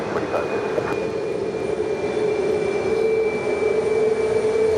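A Korean Air Airbus A380 jet rolls down runway 4 left at JFK, giving a steady, continuous engine roar with a faint high whine, heard from a distance and holding at the same level throughout.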